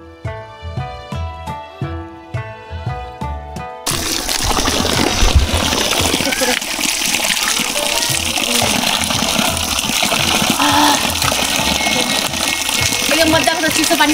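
Cold water from a mountain spring source gushes loudly and continuously, a dense broad rush that follows a few seconds of music.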